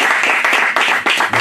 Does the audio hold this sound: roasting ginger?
no